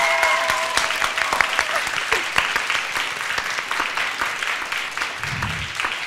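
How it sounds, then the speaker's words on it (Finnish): An audience gives winners of a tied contest a round of applause, dense, sustained clapping at close range that carries steadily and tapers slightly toward the end. "Antakaa voittajille isot aplodit."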